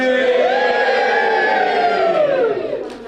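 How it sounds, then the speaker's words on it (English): Guests at a wedding ceremony let out a loud, sustained cheer of overlapping whoops and shouts that holds steady before fading slightly at the end. "Let's give a big cheer, everybody."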